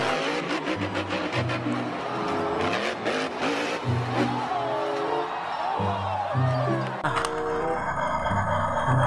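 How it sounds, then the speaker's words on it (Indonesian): A toy monster truck plays electronic engine-revving and tire-squeal effects over short repeating tones, busy and continuous, in a room full of toys. "Wah, yang ini mobil monster teman-teman."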